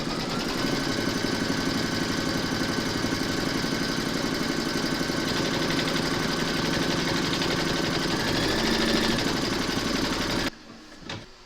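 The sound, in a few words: embroidery sewing machine stitching applique round 3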